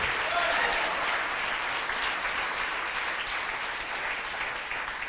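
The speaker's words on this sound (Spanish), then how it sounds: "Dele un aplauso al Señor" A church congregation applauds the Lord during a Spanish-language sermon, with dense, steady clapping from many people that holds at an even level for the whole stretch.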